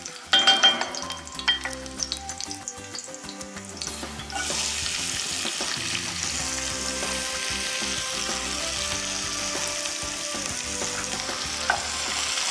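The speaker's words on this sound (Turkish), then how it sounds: "sarımsaklarımı karıştırıp soğanlarımı ilave edebilirim artık tencereme" Onions and garlic sizzle in a pot while being stirred, a steady close frying hiss with spoon scrapes and clanks, the sizzle growing louder and denser partway through as more goes in, no talking.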